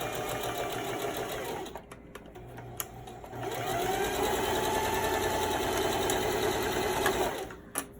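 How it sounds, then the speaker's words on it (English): A sewing machine stitches thin nylon fabric in two runs, a short burst and then a longer steady whir lasting several seconds, with a brief pause between and a clear, close sound throughout. "I'm just gonna back stitch a little bit"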